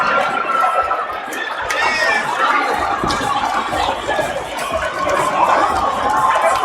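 A home crowd at a boys' high school basketball game in a gym roars with steady cheering, chatter and some laughter, a dense wash of many voices that holds throughout.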